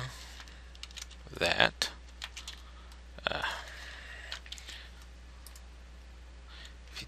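Computer keyboard keys being typed as a command is entered, heard as two short bursts of clicking taps separated by a pause, fairly close, with a brief word of speech.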